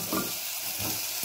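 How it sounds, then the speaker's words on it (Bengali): Rice frying and being stirred in a wok-style pan for a one-pot vegetable tehri with peas, giving a steady soft sizzle with a couple of low scraping stirs, close and alone. "বেশ ভালো ভাজা হয়ে গেছে, চালটাকে এইভাবে ভাজবেন।"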